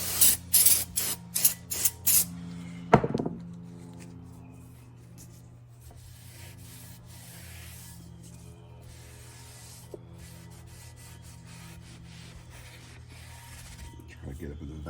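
Brake cleaner sprays onto a rusty brake rotor in short, close hissing bursts at the start, followed by a long stretch of quiet background hum with a few faint clicks.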